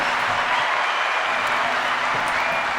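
A steady wash of applause from a crowd, even and continuous throughout, with no clear breaks and no one talking over it.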